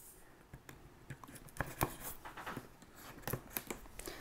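A knife slices through several strips of tape sealing a Hasbro Ghostbusters Neutrona Wand toy box, giving close, quiet scratchy cuts and small taps in irregular bursts.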